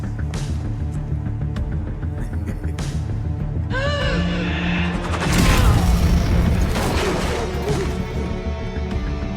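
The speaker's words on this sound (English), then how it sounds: "Sounded like an explosion." In the TV series Black Lightning, a heavy explosion booms and crashes mid-scene after tense mechanical sounds, a loud rumbling burst followed by settling debris.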